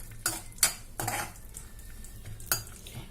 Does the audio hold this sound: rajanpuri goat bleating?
no